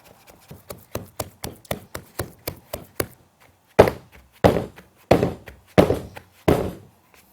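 Hypertufa mix pounded into the base of a bowl mould at a greenhouse: about a dozen quick, dull, close thuds in a steady rhythm, then a pause and five heavier, louder thumps, with no talking.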